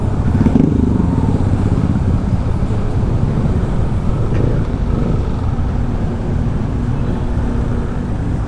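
Steady road traffic near the Tagaytay flyover construction in the Philippines rumbles continuously, a dense low engine drone from idling and creeping vehicles in a jam, with no clear separate passes.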